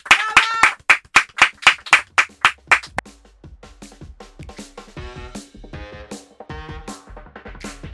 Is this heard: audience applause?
yes